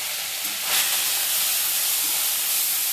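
Small shrimp dropped into hot mustard oil burst into a loud, hissing sizzle that swells sharply just after the start and then holds steady and close, with no voices.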